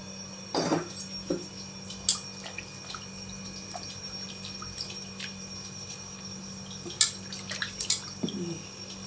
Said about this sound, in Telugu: సో కొంచెం వేడి నీళ్ళతో అయితే కడుగుతున్నారు